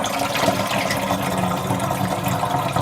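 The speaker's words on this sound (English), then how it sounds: "I will pour the solution prepared in this way into the sprayer." Homemade plant solution pours into a garden sprayer, a steady continuous liquid rush that stays close and fairly loud for the whole stretch, with no voices.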